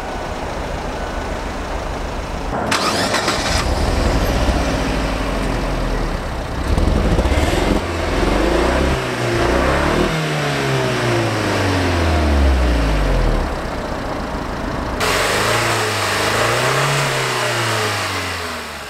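The turbocharged 1.4-liter four-cylinder engine of a 2017 Fiat 124 Spider revs repeatedly up and down, rising and falling in pitch with loud, close bursts of acceleration and no talking.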